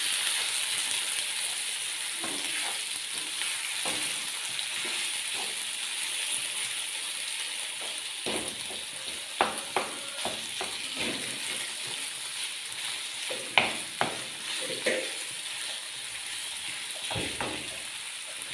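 Minced meat and aubergines sizzle steadily in a pan while spices are added, a constant frying hiss with scattered scraping and clinking stirs from a utensil, no speech.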